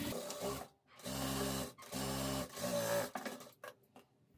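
Sewing machine stitching a kameez sleeve, running in several bursts of steady mechanical whirring with short pauses between them, close and fairly loud, with no talking.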